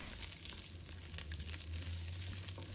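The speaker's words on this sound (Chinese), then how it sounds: "油热之后，我们先把这个大蒜和生姜放入锅中，小火给它翻炒，炒出香味" Garlic and ginger stir-frying over low heat in a generous pool of hot cooking oil in a wok, a faint steady sizzle with soft crackle running alone throughout.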